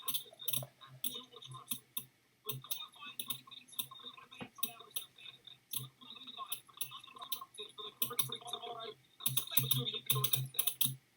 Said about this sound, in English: I think it's like typing. I actually have no idea what that noise in the background is.